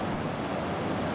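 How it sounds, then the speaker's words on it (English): The flooded Elbow River in Calgary rushes past in a broad, dense roar of water, steady and fairly loud throughout the short stretch, with no voices. "The river is just adjacent here. Looks very high."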